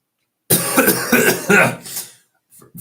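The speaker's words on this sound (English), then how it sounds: "Sorry for the coughing." A burst of harsh, rapid coughing from one person recovering from a cold, close and loud, followed by a pause and a couple of quieter rough throat sounds.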